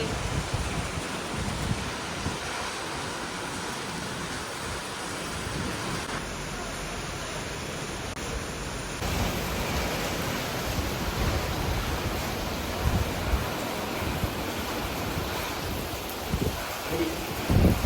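Heavy rain pours down in a dense, constant hiss, loud and unbroken throughout, with occasional faint knocks beneath it.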